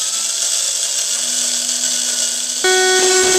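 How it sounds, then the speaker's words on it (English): A coffee grinder grinds rice to clean its burrs, giving a loud, steady high-pitched motor whine that shifts pitch near the end as the load changes, close and with no voices. "Running that half cup of rice through will absorb those oils, run everything through, clean out the burrs"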